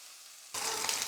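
Chopped curry leaves drop into hot tempering oil on a just-switched-off stove, bursting into a sudden loud sizzle partway through after a quiet start.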